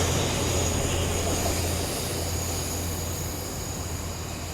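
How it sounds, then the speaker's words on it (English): A train departs Newton Abbot station in Devon bound for Penzance, with a loud, steady diesel engine drone and low hum that eases slightly as it pulls away. "train now departing is going to Penzance."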